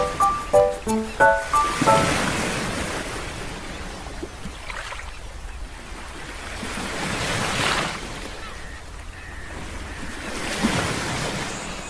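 Cartoon ocean waves roll and wash in a steady surging swell with wind, after a brief run of melodic chime notes at the start.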